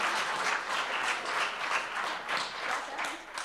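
An audience at a summer policy forum applauds steadily, a dense wash of clapping hands that holds at an even level for the whole stretch, with no voices over it.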